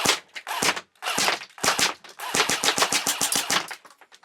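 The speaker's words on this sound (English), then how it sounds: "Dinging the metal quite badly, look." An airsoft G36 fires bursts of BBs at a metal French ARFA gas mask, sharp rapid clattering shots with impact pings in quick strings and short pauses, close and loud with no talk.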